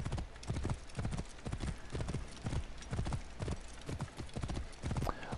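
In Assassin's Creed: Origins, rapid, rhythmic hoofbeats of a galloping horse pound steadily throughout, close and continuous, with a faint whinny near the end.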